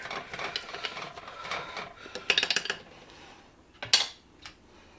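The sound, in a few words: pushing red onions down in jar with wooden handle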